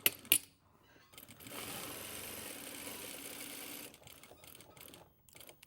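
A sewing machine stitches across a pocket flap in one steady whirring run of about two seconds, followed by short bursts of back tacking and a few clicks and taps, close and fairly quiet.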